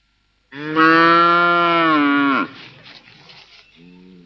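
Cattle on a farm in Zimbabwe give one loud, sustained moo lasting about two seconds, followed by quieter shuffling and a fainter second low call at the end.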